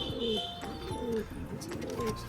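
Pigeons, including a pair of black jag birds, cooing in a home loft, with repeated low throaty coos in a steady rhythm, close by, over faint background noise.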